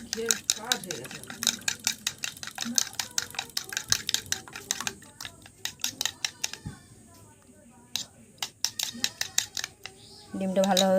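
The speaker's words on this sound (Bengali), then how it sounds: "ডিমটাকে ভালোভাবে ফেটিয়ে নেব।" An egg is whisked in a bowl for a rasmalai recipe: quick, rhythmic, close clinking strokes that continue steadily with a few short pauses.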